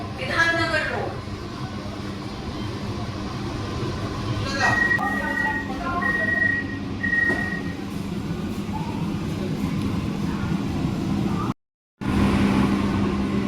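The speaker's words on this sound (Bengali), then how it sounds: "এখন যাচ্ছে শিয়ালদা ঠাকুরনগর গ্যালোবিং লোকাল এখন থেকে ওভারটেক করে" A Sealdah–Thakurnagar galloping local train overtakes on a suburban line near Bidhannagar, a continuous rumble and clatter heard from on board under someone talking.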